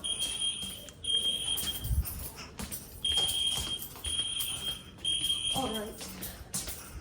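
A hospital fire alarm sounds in repeated shrill, piercing beeps with short gaps between them, heard up close with faint background noise and a brief voice.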